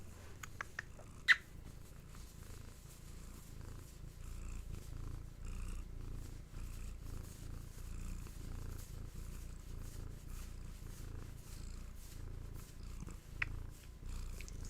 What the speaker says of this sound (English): Some kitten purr ASMR to start us off.